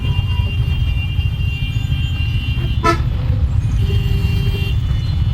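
Busy road traffic rumbles steadily up close, with a single sharp car horn toot standing out near the middle above the continuous engine drone; no talking.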